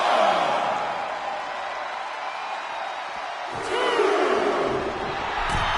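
A loud crowd in a wrestling video game roars and cheers continuously, swelling midway, with a sharp slam-like hit near the middle.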